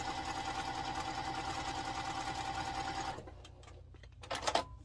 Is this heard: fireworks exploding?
no